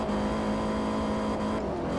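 A 556 hp front-wheel-drive Volkswagen New Beetle build in the Forza 4 racing game holds a steady, loud, high-revving engine drone while it runs flat out near top speed, with no pauses.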